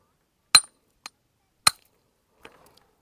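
A hammer striking a fairly large, flattish rock to break it: four sharp, separate impacts spread over a few seconds, the first and third loudest, ending with a faint crack and small rattles.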